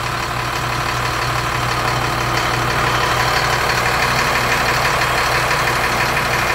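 A retired fire truck with its pump removed idles steadily at close range, a loud, even engine rumble with a slight knocking texture running throughout, no voices present.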